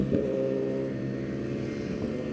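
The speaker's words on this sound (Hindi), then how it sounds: "That was a Ninja 1000. ZX-10R." A Kawasaki Ninja 1000 ZX-10R motorcycle drones steadily with a tonal engine hum, and brief rushes mark its approach and the end of the pass.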